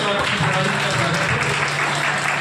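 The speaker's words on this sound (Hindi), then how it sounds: "तालियां बजा करके" Audience applause at a political gathering for a municipal council election, a dense, continuous wash of clapping from a large crowd, loud and close, holding steady throughout.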